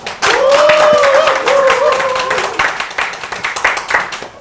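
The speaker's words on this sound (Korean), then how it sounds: "큰 박수 부탁드립니다" Clapping and crowd noise fill the stretch after a brief pause, with a sustained tone or voice running through the first half, as a candidate is introduced at a political party committee meeting.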